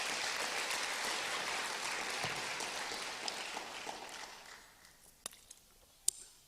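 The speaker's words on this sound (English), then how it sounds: "Give him a big round of applause." Audience in a hall claps loudly and steadily for a man named Kenny during a mayor's State of the City address, the ovation thinning out after about four seconds into a few isolated claps and knocks.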